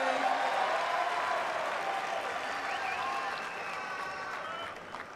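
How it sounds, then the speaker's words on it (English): A tennis crowd at an Olympic women's singles final applauds a shot, with broad, steady clapping that gradually thins and softens, while faint voices mix in. "That shot was applauded by Kerber."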